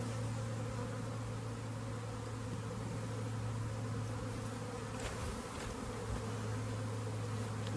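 Dense buzzing of many honey bees around hive frames from a laying worker colony, a steady close drone with occasional louder passes of individual bees, no talking.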